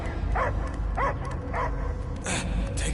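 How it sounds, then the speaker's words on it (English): A dog barks in short yips and whimpering bow-wows, four separate calls spaced roughly half a second apart, heard over a low rumbling background. "I hear only barking"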